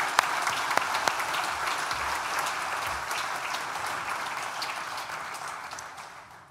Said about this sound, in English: please join me once again in a big collective round of applause